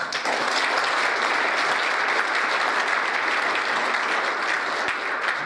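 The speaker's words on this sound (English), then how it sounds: "we'd like to give him a round of applause" Sustained, dense applause from a crowd at an award ceremony honouring an immigrant hero, a Marine Corps major general, holding loud and even throughout with no talking.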